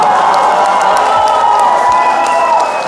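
Wedding guests at a celebration clapping and cheering in a dense, loud, sustained roar of applause and crowd noise that fills the room without pause.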